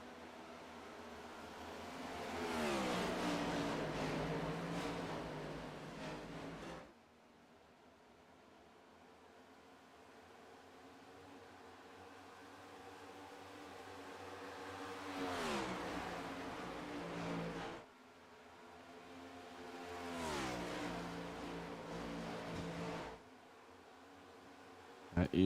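Race cars accelerate off the green flag at the start of the round of 8 in Vegas. Faint engine whines swell and fade in repeated waves, with a voice talking over them.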